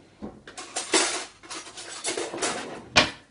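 A spoon stirs and scrapes through thick cauliflower puree in a kitchen, with a run of soft scraping strokes and a sharper clink of metal against the container near the end.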